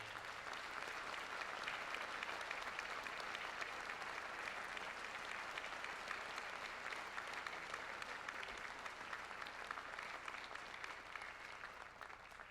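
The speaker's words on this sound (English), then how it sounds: "How about a round of applause for all of our delegates joining us today?" An audience at a presidential inauguration applauds the delegates, a long steady roar of clapping from a large crowd that stays even in loudness throughout, heard at some distance.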